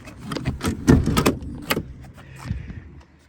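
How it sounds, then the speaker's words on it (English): Rear seat of a 2021 Honda Odyssey EX-L minivan folding and sliding: a quick run of close mechanical clunks and clicks, then a softer sliding rumble that trails off. "The seat folds and slides like such."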